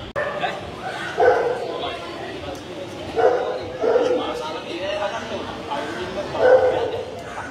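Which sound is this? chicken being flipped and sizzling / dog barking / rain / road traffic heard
dog barking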